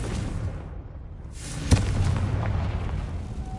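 The Confringo blast spell goes off in a Harry Potter video game: one sharp explosive crack followed by a rumbling boom that fades into the game's low ambient background.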